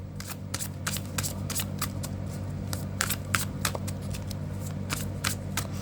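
Tarot cards being shuffled by hand in a quick, steady riffle of papery flicks and slaps, close and clear over a low constant hum, with no talking.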